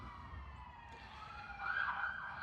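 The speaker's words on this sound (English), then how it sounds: "Got a few sirens going by here." A siren wails faintly in the distance, rising slightly as it passes, over low steady traffic rumble.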